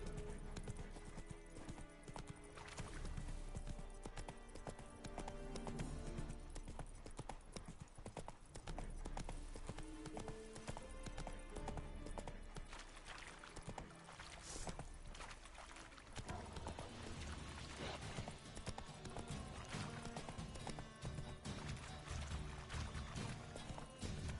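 Roach the horse from The Witcher 3 trots in a steady, continuous clip-clop of hooves, close and even-paced, under a dense game backdrop of ambience and music.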